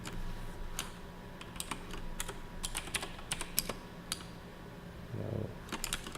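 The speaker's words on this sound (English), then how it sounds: "Why have I been typing into Visual Studio?" Fingers tap away at a computer keyboard while coding in Visual Studio, scattered light clicks in uneven bursts, close and fairly quiet, with a brief low thump near the end.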